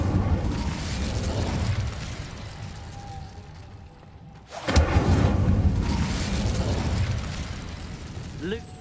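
An Incendio fire spell cast in the video game Hogwarts Legacy, a sudden whooshing burst that swells and then rolls on under steady ambient rumble and a voice.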